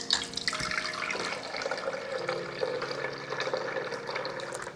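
Homemade oat milk streams steadily from the spout of a Nama M1 juicer, a continuous close liquid pour with a splashing, trickling wash that stays fairly even throughout, without voices.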